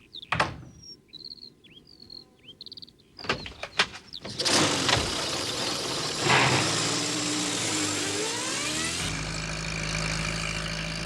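A postman's van engine revs up and drives off in an animated scene, rising into a loud continuous motor roar after faint chirping birds and insects at the start.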